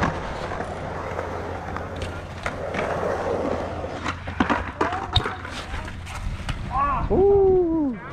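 A skateboard rolls and clacks on a skatepark bank during a 180 trick, with wheel rumble and sharp tail and truck impacts, under people talking at a distance.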